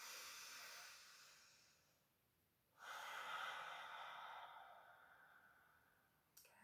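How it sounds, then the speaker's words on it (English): Deep yoga breaths taken slowly into the belly: a long, airy exhale fades away, then a strong inhale swells and tapers off, close and quiet with no talk. "Let's just take a few nice deep breaths together here, breathing into the very bottom of the belly."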